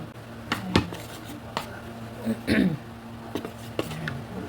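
A utensil scrapes and clinks against a bowl while chicken breading and cornstarch are mixed, giving a few soft, irregular knocks and scuffs close by in a quiet kitchen.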